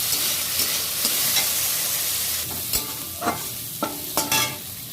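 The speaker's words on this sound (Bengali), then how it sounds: "আলুটা আমার ভাজা হয়ে গেছে" Potatoes fry in a pan with a steady close sizzle, and several scrapes and taps of a spoon stir them, the strokes becoming more distinct toward the end; no speech.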